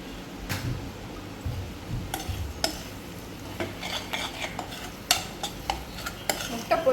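Spoon stirring an egg mixture in a pan in a home kitchen, giving irregular scraping clicks and metallic taps with a faint sizzle underneath, close and fairly quiet.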